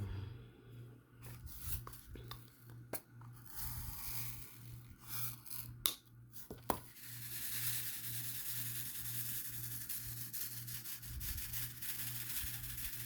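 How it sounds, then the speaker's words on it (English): Diamond painting drills roll and rub against each other in a container, a steady soft gritty rustle with a few sharper clicks, close and quiet, with no talking. "Here my little drills are rolling."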